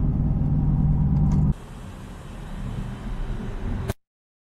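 A vehicle drives along a road in heavy fog, a steady low engine rumble and road noise that drops abruptly partway, continues more quietly with a brief click, then cuts out to silence.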